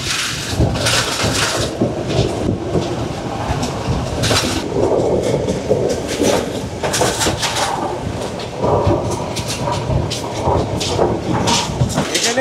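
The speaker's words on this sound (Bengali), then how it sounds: "ফাইনালি আমাদের ট্রেন চলে এসছে উপকূলীয় রেখা বরাবর।" Passenger train running along the coastal line from Colombo to Galle beside the Indian Ocean, a close, loud rumble of carriages with rhythmic clatter and bursts of wind noise through open doors, heard throughout.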